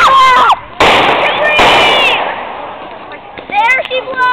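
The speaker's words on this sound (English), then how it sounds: "Here comes another mortar." Home Fourth of July fireworks mortar shells burst in loud sharp cracks, two big blasts close together followed by crackling and whistling tails, with people shouting and cheering around them.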